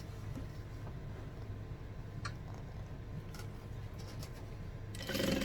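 Sewing machine stitching a tote bag seam with a 5/8 inch seam allowance: a steady low mechanical hum with faint ticking, growing louder and brighter in a short burst at the end.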